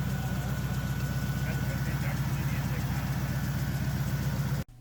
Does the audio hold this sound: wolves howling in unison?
no